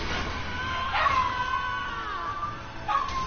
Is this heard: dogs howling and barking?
yes